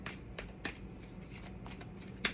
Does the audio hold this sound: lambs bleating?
no